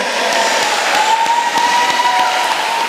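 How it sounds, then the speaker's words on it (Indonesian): An audience at a Quran memorization graduation at an Islamic junior high school gives steady, dense applause. A faint sustained tone runs underneath. "Iya, tepuk tangan buat semuanya."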